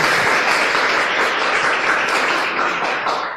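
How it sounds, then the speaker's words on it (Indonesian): A room of Tiansi members in Cirebon claps for themselves at a sales meeting, a continuous dense wash of applause that fades slightly at the end. "tepuk tangan buat Anda yang hadir di sini"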